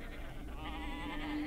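Sheep bleating, a single sustained wavering bleat heard up close and fairly loud, with no other sounds around it.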